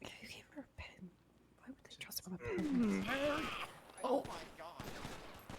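Gunfire in a GTA V NoPixel roleplay session crackles in bursts under frantic voices, sounding like a rapid fusillade mixed with excited in-game talk and a gasped exclamation.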